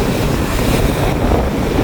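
During a storm at Keerimalai, rough sea waves churn under strong wind, making a loud, continuous roar with heavy wind buffeting on the microphone.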